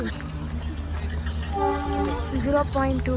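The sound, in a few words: Matheran hill train climbing the mountain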